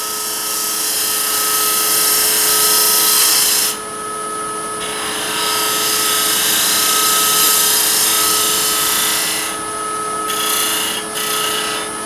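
A woodturning lathe spins a lidded ring box while a gouge rolls a cove, a loud steady scraping rush over a constant motor hum, briefly easing twice.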